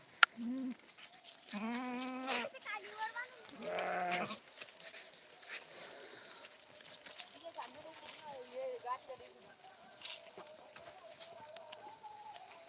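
Several sheep bleat in short wavering calls, some close, against quiet outdoor background with a few distant bird sounds.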